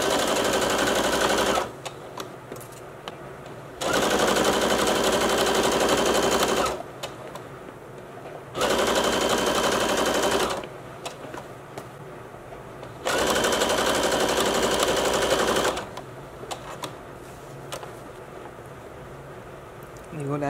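A sewing machine stitches down a small tab and seam allowance on a cocoon coat in four bursts of rapid, even mechanical clatter, each lasting a few seconds, separated by quieter pauses with faint handling sounds.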